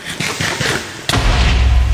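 Sudden loud blast from an explosion in the Minecraft video game, a sharp boom followed by a deep rumbling roar, heard over scattered game noise.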